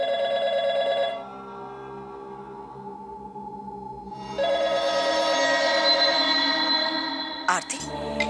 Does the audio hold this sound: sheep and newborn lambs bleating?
no